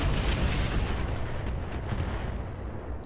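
Mech weapons fire in the Roguetech game, a dense, continuous barrage of deep booms and bursts that holds loud for the full span with no talk.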